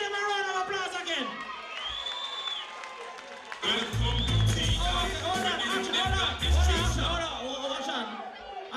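Crowd at a dancehall competition breaking into applause and cheering after a stretch of chatter, loud clapping and whoops swelling together under an MC's voice.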